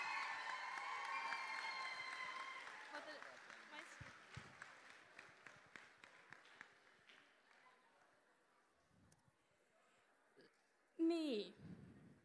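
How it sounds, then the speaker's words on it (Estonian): Audience applause at a 2019 playbox stage show, a burst of clapping that thins into scattered, fading claps, followed by a brief vocal sound near the end. "Palun teime talle väga suur aplausi"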